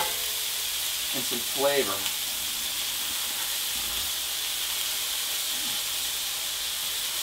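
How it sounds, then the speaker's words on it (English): Marinated meat frying in a hot pan gives a steady, close sizzle and hiss throughout, with someone speaking briefly over it. "You hear that nice little bit of a sizzle? That's what we're going for."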